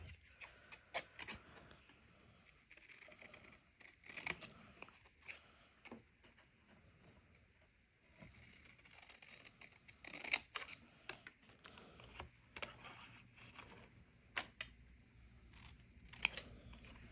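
Scissors snip through a paper embellishment in a quick series of faint, close, crisp cuts, irregular in rhythm, with quiet rustling between them and no talk.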